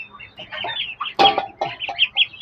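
Poultry clucking inside a packed farm shed holding fowl chicks, ducks and guinea fowl, a close, busy run of short squawks and clucks with one loud burst in the middle.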